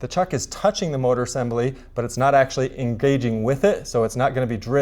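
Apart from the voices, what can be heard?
No everyday noises stand out.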